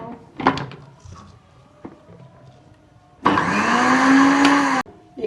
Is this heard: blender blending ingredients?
yes